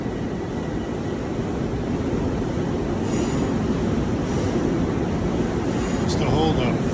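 Long Island Rail Road M3 train pulling out at Penn Station, New York, a loud steady rumble of rolling cars with squeals near the end and voices in the background.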